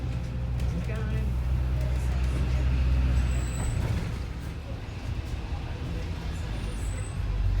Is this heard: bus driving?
yes